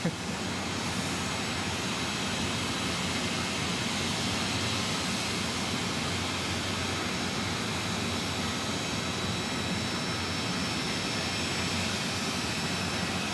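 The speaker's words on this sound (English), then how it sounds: "got a little biz jet on the move, Eddie." A steady, loud whining roar of a business jet's engine as it taxis at Zurich airport, running continuously, with broad noise throughout and no talking.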